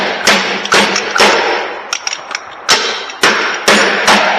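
Hammer taps driving an upside-down motorcycle fork seal bushing into place: a series of sharp, close metallic knocks in uneven bursts, some hard strikes and a few lighter taps.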